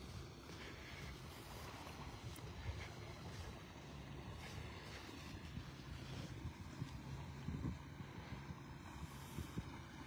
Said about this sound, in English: There's a boat heading out the pass.